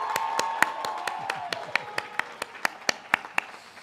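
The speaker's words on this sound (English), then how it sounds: "we're going to give Joanne Pabuda a big round of applause." Scattered, distinct claps from an audience at a physician assistant white coat ceremony, sharp individual hand claps at an uneven, slowly settling rhythm, fairly close, with a faint hum of voices beneath.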